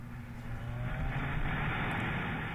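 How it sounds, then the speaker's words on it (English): Kawasaki Z1000 motorcycle engine pulls hard while passing on a road, a steady rising roar mixed with wind rush, heard from the rider's position with no speech. "There's the response of the Z1000 right there. No downshifting required whatsoever."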